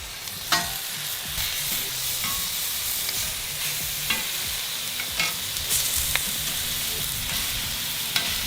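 Grilled onion discs sizzle on a hot grill with vegetables cooking outdoors, a continuous close hiss broken by a few sharp spatula scrapes and clicks as the slices are lifted and moved.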